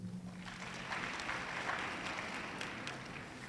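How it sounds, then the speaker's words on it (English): Applause at a government awards ceremony for students, a moderate, fairly distant patter of many hands clapping that continues steadily for a few seconds, with a faint hum underneath at the start. "A big applause to MERSITA"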